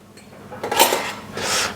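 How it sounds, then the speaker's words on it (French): A saucepan clanks and scrapes against metal as it is handled in a restaurant kitchen, with two loud bursts of clatter, close and without talk. "Donc on va venir faire fondre dans une casserole."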